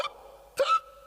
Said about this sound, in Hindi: सर को हिचकी की बीमारी हो गई है।